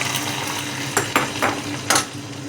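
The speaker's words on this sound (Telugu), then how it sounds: "ఇప్పుడు పప్పుచారులో వేసేసుకుందాం." Hot tempering is tipped into pappu charu, a lentil-tamarind soup, and stirred in a pot. A steady sizzling hiss runs under four sharp metal clinks from the ladle striking the vessel.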